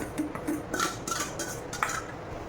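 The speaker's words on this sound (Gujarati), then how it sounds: "આપણે દૂધીના ખમણને થોડી વાર હલાવીએ. ઘીમાં શેકવાનું છે તેને." A utensil stirs grated bottle gourd in melted ghee in a pan, making soft scraping and clinking strokes in a quick, uneven rhythm close by.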